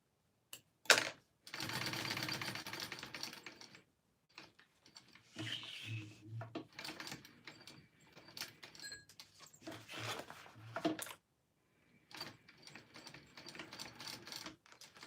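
A sewing machine stitches a pocket into a garment in short bursts of rapid mechanical whirring and clatter, separated by pauses and handling noises, close and fairly quiet, with no voices.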